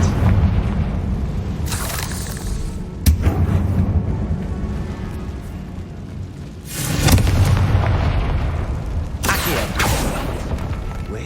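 Loud booming blasts from a fire spell in the Hogwarts Legacy game on PS5, several heavy explosions with rumbling tails spaced a few seconds apart, close and dominant.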